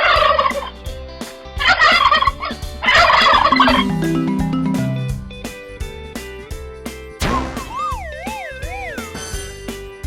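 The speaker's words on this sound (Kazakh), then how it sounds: "Күрке тауық." A turkey gobbles in rapid, rattling bursts, loud and close, set among playful musical tones and sliding whistles.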